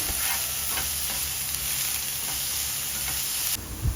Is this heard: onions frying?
yes